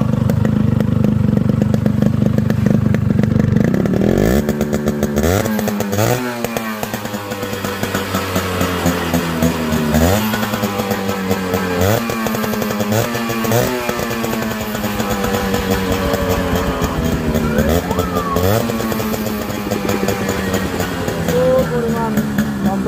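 A modified Yamaha RX 100 motorcycle, with a new zero-piston cylinder, runs loud and close: a rough two-stroke idle, then repeated sharp throttle revs rising and falling over about twenty seconds.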